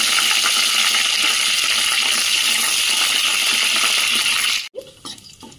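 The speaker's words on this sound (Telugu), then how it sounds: "ఫ్రైలో కరివేపాకు ఆయిల్లో వేసుకుంటే వేగుతుంది కదండి మంచిగా" Curry leaves drop into hot oil for a bitter gourd fry, giving a loud, steady sizzling hiss that carries on evenly before cutting off abruptly near the end, leaving faint clinks and quiet.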